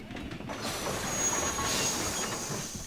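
Train wheels rolling and squealing in the Panzar video game, a steady continuous rumble with a thin high metallic squeal drifting across the middle, loud and unbroken throughout with no talk.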